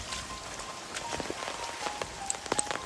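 Rain patters steadily on a surface, with scattered louder drops ticking against a soft continuous hiss; no voices.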